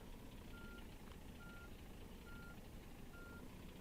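A truck reverses in On The Road Truck Simulator, its backup alarm beeping four times in a steady rhythm over a constant low engine rumble.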